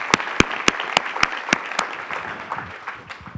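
An audience at a fintech awards ceremony claps, with a few sharp close claps standing out over a steady spread of applause that gradually thins and fades.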